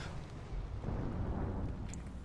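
Explosions rumble through a video game skirmish as a dense, continuous low boom and crackle that fills the whole stretch, loud and unbroken, with no voices over it.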